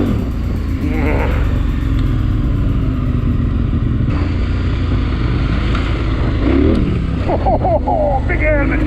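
A KTM 1090 adventure motorcycle ridden hard off-road, its engine droning loud and steady throughout with wind buffeting, while a voice briefly speaks over it.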